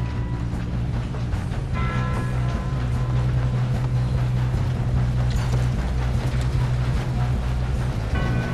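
A steam train runs in Red Dead Redemption 2, a loud, continuous chugging rumble with steady mechanical drone and metallic overtones that holds throughout without pause.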